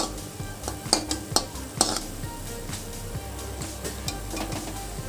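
Paneer butter masala being stirred and sautéed in a pan, a metal spoon clinking and scraping against the cookware in irregular taps over a soft, steady sizzle, close and fairly quiet.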